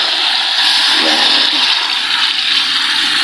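Vinegar poured into a hot cooking pan of browning pork, a steady loud hiss and sizzle that holds evenly for several seconds without pause.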